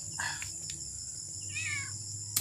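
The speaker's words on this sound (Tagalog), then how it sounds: "pusa." A cat gives a couple of short, faint meows in an outdoor rural setting, set against a steady background of insect and cricket buzzing.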